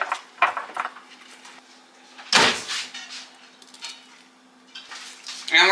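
Clinks and scrapes of a utensil stirring creatine and salt into a meal in a bowl, a few sharp knocks among softer rhythmic scraping, close and fairly quiet, with no talking.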